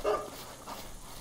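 Hunting dog in the video game theHunter 2015 gives a quick bark, brief and fairly soft, over steady outdoor ambient noise.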